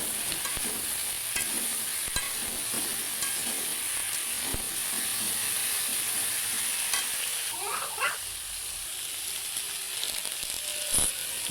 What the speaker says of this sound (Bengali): তারপরে পেঁয়াজ, লঙ্কা, আলু, পটল পরপর ঢেলে নিয়ে ভালো করে ভাজা ভাজা করে নেব।